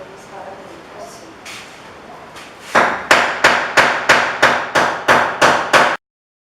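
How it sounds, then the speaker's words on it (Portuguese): Hammer and sledgehammer striking putty on a retro refrigerator being restored: about ten loud, evenly spaced metallic blows, close by, following a quieter stretch of background noise and faint sounds. "Você vai estar utilizando um martelo e uma marreta e vai começar a bater nas esquinas da massinha e vai para dentro, assim."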